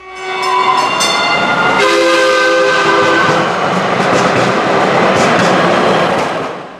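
DART Orange Line light rail train in Dallas, its horn sounding in several sustained blasts over the steady rumble and rattle of the train rolling close by.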